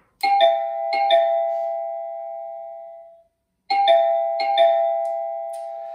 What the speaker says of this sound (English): I should hear that new ding-dong sound that I programmed to zone number one